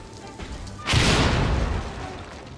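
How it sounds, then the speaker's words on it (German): A loud explosion goes off in the video game Assassin's Creed Syndicate, one sudden broadband boom that swells and rumbles on for well over a second before slowly easing, with no speech over it. "Was ist, wenn ich das zünde? Wie groß ist die Explosion?"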